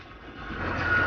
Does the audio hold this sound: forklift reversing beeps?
yes